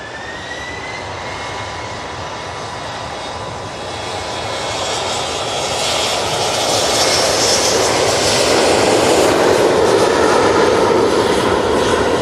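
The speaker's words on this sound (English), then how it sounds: "And we do have the Qatar 787-9 Dreamliner." Jet engines of a Qatar Airways Boeing 787-9 Dreamliner roar at Manchester Airport, a broad continuous rumble and whine that slowly builds in loudness as the aircraft passes close by.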